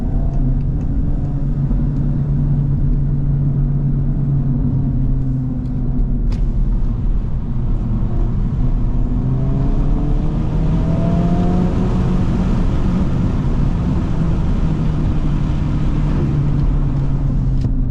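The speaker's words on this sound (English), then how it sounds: "this car, its OEM exhaust in Sport Plus mode is amazing." A 2025 Acura Integra Type S with its factory variable exhaust in Sport Plus mode drones steadily while driving, its deep rumble climbing in pitch midway as the car accelerates, with no talking.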